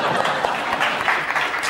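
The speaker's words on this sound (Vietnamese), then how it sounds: "Vỗ tay nào." A comedy show audience claps in a short burst of dense, steady applause, with a voice faintly mixed in.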